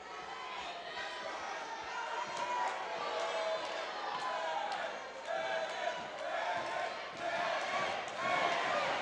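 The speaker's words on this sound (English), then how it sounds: "Crowd coming alive for Megan Bane." A wrestling arena crowd cheering and roaring for Megan Bane during an OVW match, a steady crowd noise with repeated thuds from the ring and a commentator talking over it.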